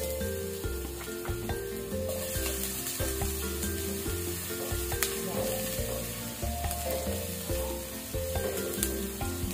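Garlic frying in a pan of leftover oil, a continuous close sizzle under a looping background music track with occasional clicks and scrapes.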